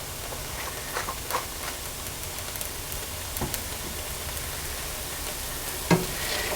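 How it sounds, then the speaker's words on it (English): Meatballs with soy sauce sizzle in a hot pan, a steady crackling, bubbly fry with occasional sharper pops and clinks, close and moderately loud, with no talking. "As you hear, everything starting to get crispy and bubbly"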